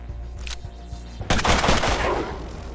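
A gun fires in the video game Mutant Year Zero: a couple of soft early pops, then a loud, close burst of rapid shots that fades away.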